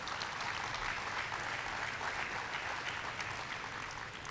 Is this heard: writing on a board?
no